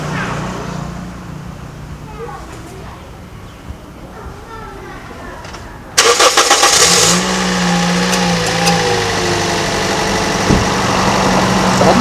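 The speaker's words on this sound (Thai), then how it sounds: "เดี๋ยวผมสตาร์ทเครื่องดูนะ" A used Toyota Vios sedan engine starts with an abrupt loud crank and catches, then settles into a steady, moderately loud idle, after a stretch of quieter background.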